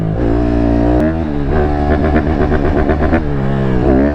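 A 150 dirt bike engine revs up and down close by, loud and buzzy, with rising and falling pitch as the throttle is worked.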